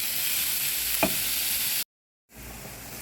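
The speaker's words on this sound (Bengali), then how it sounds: "এখন ঘিয়ের মধ্যে গাজর ভেজে নেব" Carrots frying in ghee with a spoonful of sugar give a steady close sizzle, with a brief scrape of stirring about a second in, then a short gap before the frying noise resumes.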